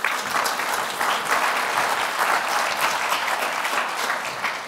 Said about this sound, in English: a round of applause for Herb Kim